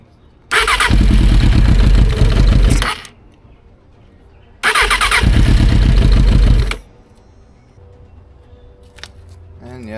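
A Suzuki Katana 750 motorcycle engine cranks in two loud, close bursts of about two seconds each, separated by a quiet pause, without settling into a running idle.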